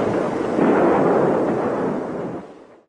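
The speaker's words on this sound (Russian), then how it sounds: "пытался посчитать количество взрывов в минуту в Грозном" Shelling of Grozny produces a dense, continuous roar of blasts that swells, holds loud and heavy, then fades away, with no voices.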